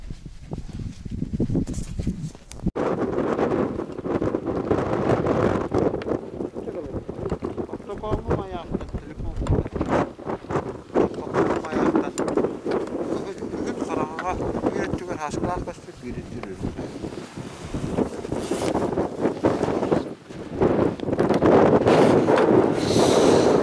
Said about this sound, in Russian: Вот такой ветер в тундре.